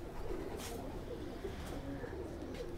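Paired Ferozpuri and Faqeergull mix-breed pigeons coo steadily in a loft, a low continuous cooing murmur with soft overlapping calls close by.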